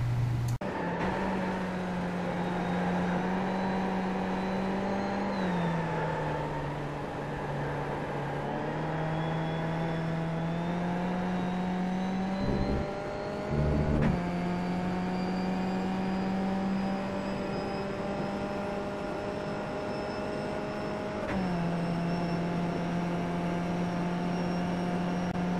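A Skip Barber race car in iRacing laps Suzuka, its engine droning steadily with gear shifts that drop and raise the pitch, sustained and loud throughout with no talk.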